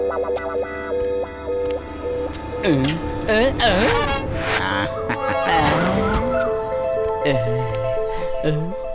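A cartoon car drives up and skids to a halt, with loud rising and falling tire squeals, engine whine and zany sound effects over a bright music bed.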